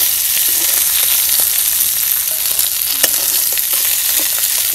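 Fish frying in a pan of hot oil, a loud, steady dense sizzle with scattered crackles and pops throughout, heard alone.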